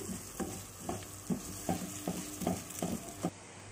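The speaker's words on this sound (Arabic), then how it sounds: "ونبتدي نحمرها زي ما انتم شايفين كده اهوت هنخليها لونها ذهبي" Vermicelli fries in a pan while being stirred, browning for an Egyptian lentil soup; a spoon scrapes in a regular rhythm about twice a second over a soft sizzle, close by with no voices.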